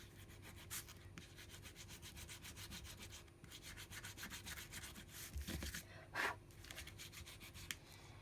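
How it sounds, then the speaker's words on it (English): Sandpaper rubs over a paper title on a scrapbook page in soft, close, continuous scratchy strokes, fairly quiet, with a couple of brief sharper scrapes near the end. "The title's now in place and roughly sanded off."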